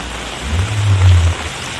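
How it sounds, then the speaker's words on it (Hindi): Heavy torrential rain pours onto a street during a downpour in Jhansi, a loud, dense, continuous wash of rain with a deep rumble swelling briefly in the middle. "ये देखिए मूसलाधार बारिश का जलवा"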